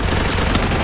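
Gunfire in the battle-royale game Free Fire, a short, dense burst of loud broadband shots filling the whole fraction of a second with no voices.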